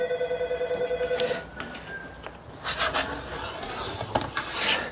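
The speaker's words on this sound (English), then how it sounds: "I will also remove the wax from the edges, and for that I have a little notch in my scraper." A plastic ski scraper's notch rasps along the edges of a ski to strip wax, a close, harsh scraping in uneven strokes, preceded by a brief ringing electronic tone.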